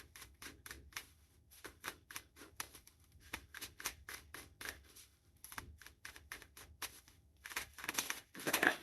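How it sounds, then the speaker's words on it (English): A deck of tarot cards shuffled by hand in a series of sharp riffling bursts and flicks, close and crisp, coming in irregular clusters with brief pauses between them and no talking. "But that's a bunch of cards, of course. Let's just shuffle these in"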